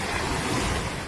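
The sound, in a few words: sea waves at the beach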